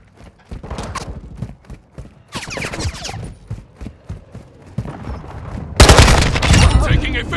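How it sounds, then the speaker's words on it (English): Gunfire in a Call of Duty: Modern Warfare II multiplayer match: scattered bursts and single shots, then a loud close volley near the end, with brief game voice callouts between them. "Taking effective fire."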